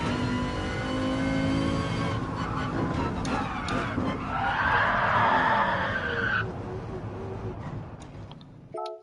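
Gran Turismo Sport car drifting sideways, a screeching tire skid rising over a loud revving engine for several seconds, then the engine winding down and cutting off with brief electronic tones at the end.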